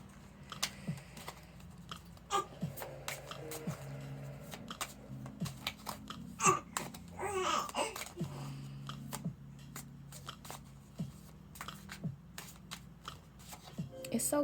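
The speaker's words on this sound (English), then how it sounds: "Let's get these cards out." Playing cards are taken out and shuffled, producing repeated riffling, flicking and tapping sounds at close range while people talk over them.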